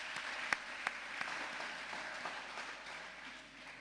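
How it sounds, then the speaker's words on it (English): An audience at a student association event applauds, faint, steady clapping with a few sharper claps standing out early on. "Can we please give them a round of applause?"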